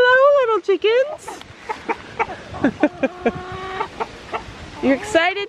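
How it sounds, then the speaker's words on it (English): Chickens cluck and squawk in short bursts close by while someone talks to them over the top. "Hello, little chickens."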